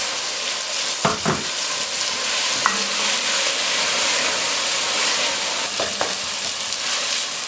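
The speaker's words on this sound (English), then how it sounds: "So I'm just stir frying the sauce" A tomato and onion curry sauce sizzles steadily in a pan while being stir-fried, with a few scraping stirs of a utensil breaking through the constant hiss.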